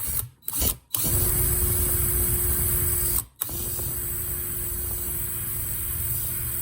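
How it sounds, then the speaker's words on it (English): A power drill bores through steel motorcycle handlebars, a steady close whine running for several seconds with brief stops and restarts, no talking. "So on this one, I should be able to just drill this right out."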